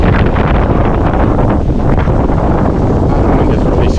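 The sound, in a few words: strong wind on a beach walkway in Phuket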